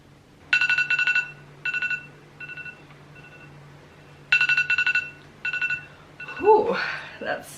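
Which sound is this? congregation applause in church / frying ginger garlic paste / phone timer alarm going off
phone timer alarm going off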